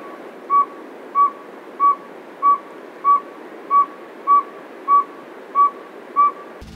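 A series of ten evenly spaced, mellow whistled toots from a saw-whet owl, steady and rhythmic over a soft hiss.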